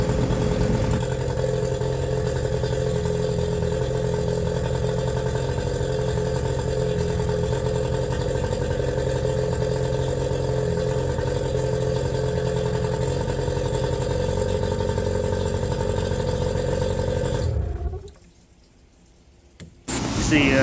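A Hangkai 18 hp outboard boat motor runs steadily on flush muffs in a close, droning idle for about seventeen seconds, then cuts out abruptly with a short near-silence before sound returns.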